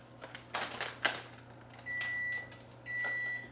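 A kitchen oven sounds two long steady electronic beeps, close and clear, following a few quiet knocks and clatters of kitchen activity.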